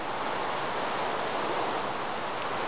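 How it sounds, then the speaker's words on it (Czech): Steady rain falls in the video game Minecraft, a constant even hiss of pattering that runs unbroken and fairly loud throughout, with no talking. "Doufám, že přestane pršet."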